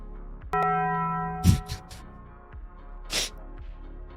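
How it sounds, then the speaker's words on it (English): A livestream follow alert plays as a doorbell-like chime, a single sustained tone lasting about a second, followed by a few brief clattering knocks nearby. "Replay my follow sound too."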